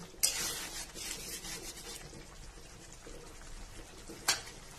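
A spoon scrapes and stirs prawn do-piaza in a pan right after the lid comes off, with continuous close rubbing and sizzling texture and a couple of sharper metallic clinks.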